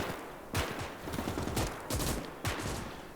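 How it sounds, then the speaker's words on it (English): Machine gun nest firing in the World War II game Gates of Hell, loud sustained rattling bursts with sharp repeated cracks standing out, no talking. "they've got a kind of machine gun nest up there. It's rattling away at us"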